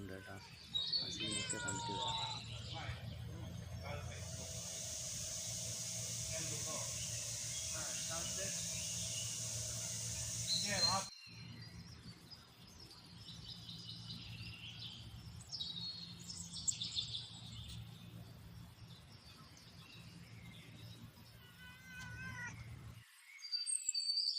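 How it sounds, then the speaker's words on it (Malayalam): Kittens of various breeds meow in a palace garden, with faint, intermittent mews and a few bird-like chirps beneath people talking nearby. "ഇവിടെ പല പല രാജ്യങ്ങളിലുള്ള നല്ല ഭംഗിയുള്ള പൂച്ചക്കുട്ടികൾ"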